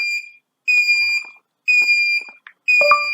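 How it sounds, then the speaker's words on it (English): A home alarm system controlled from a smartphone sounds its siren in three loud, steady high-pitched electronic tones of about half a second each, separated by short gaps, with faint clicks between them. "The alarm is on."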